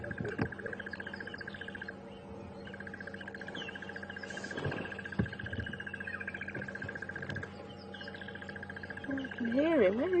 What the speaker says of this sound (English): You're hearing the bird in the background there.